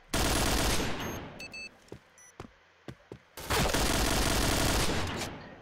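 Loud bursts of automatic gunfire from a competitive Arena video game match, sustained volleys at the start and end with short separate shots and clicks between them, no talk over it.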